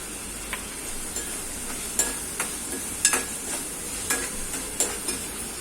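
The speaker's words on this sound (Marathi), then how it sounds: "चांगलं परतून घेऊया." Gram flour with fenugreek sautés in a pan under a soft sizzle, with a spoon scraping and knocking against the pan at irregular intervals; no one speaks.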